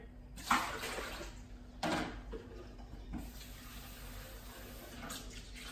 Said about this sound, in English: I also give this water tank another wash, so I'll just give that a rinse through